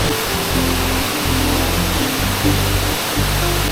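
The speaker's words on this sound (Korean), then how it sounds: "와 폭포가 진짜 바로 앞에 있네요" Loud, constant rushing water of a waterfall roars close by in Thailand, a dense steady wash of noise with no pauses.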